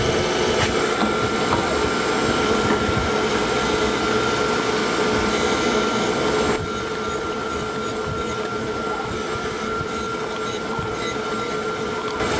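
A surface grinder works a steel gage block, a loud, continuous broadband grinding roar with a steady hum, alone without talk, easing slightly in level partway through.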